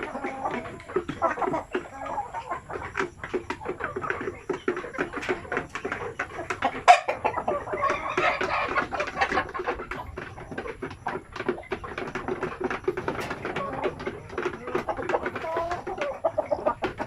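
Basilan and Zampen native chickens cluck and murmur constantly in a farm pen, with dense overlapping calls and a louder squawk near the middle, all fairly close.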